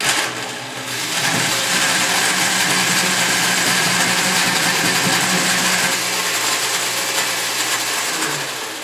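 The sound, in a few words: blender pureeing raw chocolate pudding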